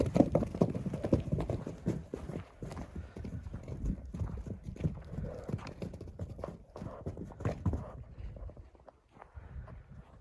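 Dense, steady clip-clop of several mares' hooves walking close by, a continuous rhythmic clatter that thins out near the end.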